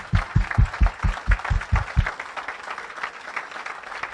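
Church congregation clapping in a quick, steady rhythm of about ten claps over two seconds, then trailing off into a softer murmur of the room.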